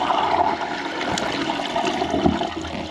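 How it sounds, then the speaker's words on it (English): A toilet flushes nearby with a rushing gurgle of water that swells, churns and drains steadily over a few seconds, with no talking. "Hey Daniel, will you guys go flush the toilet?"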